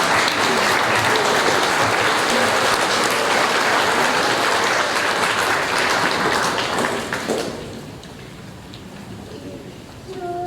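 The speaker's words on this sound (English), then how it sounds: "please give them a round of applause." Crowd at an outdoor Australia Day ceremony in Cowra gives loud, sustained applause that fades out after several seconds, leaving a quieter backdrop with a few scattered sounds.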